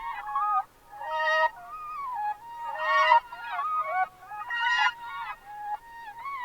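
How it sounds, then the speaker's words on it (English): A high, pitched-up vocal chop sample, tuned into key and shifted up two octaves, sings short gliding melodic phrases in repeated bursts, bright and chirpy with no other voices. "So this is the first vocal chop that I used."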